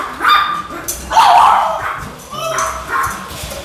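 Dogs in a home with a 3 m aquarium of South American fish bark and yip in several close bursts, a loud cluster near the start and more barks toward the end.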